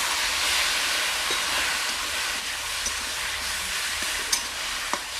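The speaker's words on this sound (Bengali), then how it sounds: "মশলাটাকে ভাজার জন্য সামান্য পরিমাণ জল দিয়ে দিলাম।" Spice paste with chilli and cumin powder sizzling in a pan after a little water is added, in a home kitchen; a constant close hiss and crackle with a few faint clicks of a spoon stirring, no talk.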